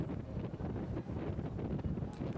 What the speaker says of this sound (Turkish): Gülle çekiç atma platformunu adeta yerinden sökecek rüzgar